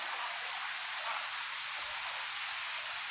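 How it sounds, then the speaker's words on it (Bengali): A downpour falls among trees, its unbroken broad hiss rushing evenly throughout with nothing else standing out. "দেখতে পাচ্ছেন কী পরিমাণ বৃষ্টি।"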